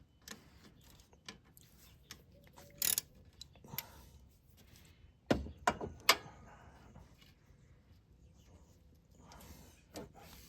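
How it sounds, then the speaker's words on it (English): A 12mm socket wrench loosens the alternator bolt on a 2013 Toyota Yaris, giving faint ratcheting clicks and a few sharper metallic knocks spread across the stretch. "I'm going to start off with using a 12mm socket here on the alternator to loosen the belt up."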